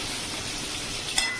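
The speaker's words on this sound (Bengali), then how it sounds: "আমার মাছ ভাজাটা প্রায় এইদিকে হয়ে এসছে" Fish frying in a kadai sizzles in a continuous, even hiss up close, with one brief metallic clink near the end and no talking.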